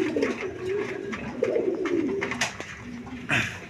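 A pair of coloured Golla pigeons cooing up close, with several soft throaty rolling coos repeating over a few seconds amid faint background noise.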